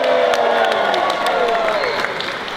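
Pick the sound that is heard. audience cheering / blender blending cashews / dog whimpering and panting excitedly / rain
audience cheering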